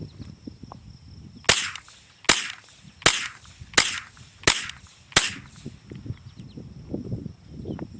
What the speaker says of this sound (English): We're gonna run a couple rounds through here.